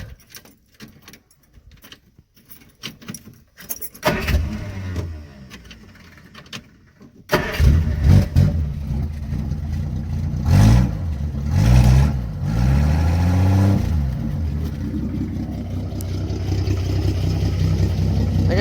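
A Studebaker car engine with no muffler and its exhaust held together with baling wire cranks over, catches, then settles into a loud, raw idle with several sharp revs. Quiet fumbling noises come first, then the unmuffled roar continues steadily to the end.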